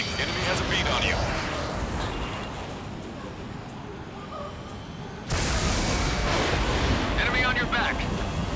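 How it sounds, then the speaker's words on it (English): Missile launch in the combat flight game Ace Combat 7, a loud whooshing roar over dense jet and wind noise, surging sharply midway, with radio voices talking throughout. "Strutter 1, missile launched."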